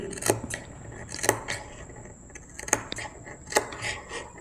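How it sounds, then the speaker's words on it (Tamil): Scissors snip crosswise through blouse lining fabric at the neckline, making four separate crisp cuts that are close and distinct, with quiet pauses between them. "இப்படி கிராஸாக வர மாதிரி கட் பண்ணுங்கள் நேராக நேராக கட் பண்ணாதீங்க"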